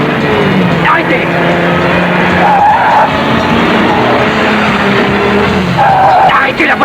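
A car skids with squealing tires, a loud continuous rush of road and engine noise with whining squeals rising and falling, under shouting voices.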